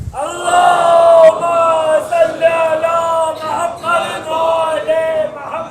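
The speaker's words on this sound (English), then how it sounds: "Loud salawat, please." A majlis crowd gathered for a Muharram gathering recites salawat loudly in unison, sustained chanted voices in several swelling phrases with brief breaths between, close and full-bodied.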